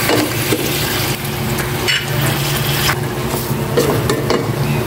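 Pork being sautéed in a pan over low heat, a steady crackling sizzle with occasional stirring scrapes and bubbling of rendering fat, continuous and close.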